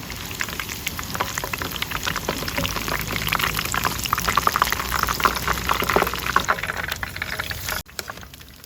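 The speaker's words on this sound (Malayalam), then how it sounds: "ഇത് കുറച്ച് നേരം എണ്ണയിൽ വെച്ചിട്ട് അങ്ങോട്ടും ഇങ്ങോട്ടൊക്കെ ഒന്ന് മറിച്ചിട്ട് ഒന്ന് ക്രിസ്പി ആക്കി എടുക്കാം" Chinese pakoda deep-fries in oil that sizzles and crackles steadily, a continuous bubbling hiss that cuts off abruptly near the end.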